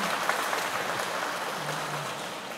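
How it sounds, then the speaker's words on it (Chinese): An audience claps warmly and steadily for naval underwater welding divers, a dense, even wash of applause with no gaps. "非常值得我们给他一个热烈的掌声。"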